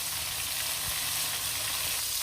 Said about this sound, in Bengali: মাছগুলো কিন্তু খুব সুন্দরভাবে ভাজা ভাজা হয়ে গেছে